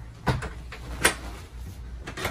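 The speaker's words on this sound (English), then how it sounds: "This door will shut." A cottage door swinging shut, heard as a soft knock and then a sharper latching thud a moment later, close by over a steady background hum with no talking.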